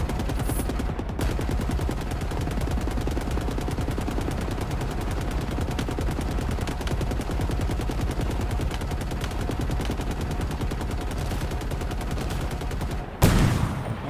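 Enemy fire in Halo Infinite pours out as a sustained, rapid stream of automatic gunshots, dense and continuous for the whole stretch with a brief louder burst near the end.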